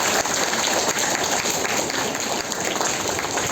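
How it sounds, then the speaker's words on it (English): A school assembly audience applauds for a student, dense steady clapping from many hands filling the room, fairly loud and continuous throughout with no pause. "Can we have a good round of applause for him?"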